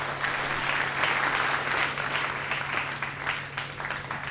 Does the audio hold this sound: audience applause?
yes